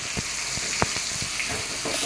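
Steady sizzling of flattened rice pulao ingredients frying in a pan with turmeric, a continuous hiss broken by a few soft stirring clicks.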